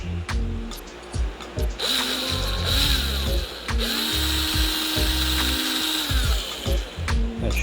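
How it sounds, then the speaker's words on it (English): A power drill fitted with a larger bit widens an existing hole, whining loud and close in a steady sustained burst with rattling, clunking handling noises before and after. "I've got a bit bigger drill bit. We'll just widen out the top hole"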